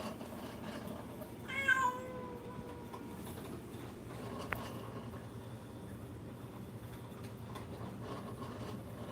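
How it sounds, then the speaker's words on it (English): A foster cat gives a single meow, fairly close but not loud, at a steady background rumble of what sounds like a train passing or rolling on rails. "That's my cat."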